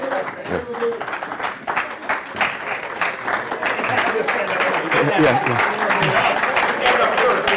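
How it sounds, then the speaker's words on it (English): Applause from a club audience greeting a guest speaker at an Optimist Club gathering, a steady wash of clapping that builds and holds throughout, with voices and talk mixed in underneath. "we got the applause out of the way"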